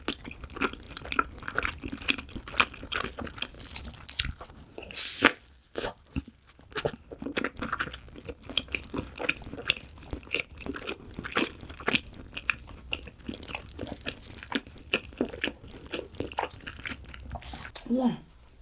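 Close crunchy bites and chewing of a kaymak pistachio doughnut drizzled with honey, repeated soft crackles and sticky mouth sounds with brief pauses throughout.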